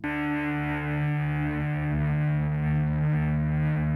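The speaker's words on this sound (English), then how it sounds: "The instrument is known as the apprehension engine." An apprehension engine, a purpose-built horror film sound effect instrument, gives off a loud, sustained droning tone with dense, grinding harmonics and slow wavering pitch, unbroken for four seconds with no voices.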